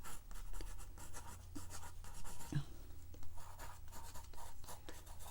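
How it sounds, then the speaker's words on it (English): Light pencil strokes scratching across a card, a steady soft rasp of short repeated marks, close and quiet with no talking. "I would start off by first lightly using a pencil."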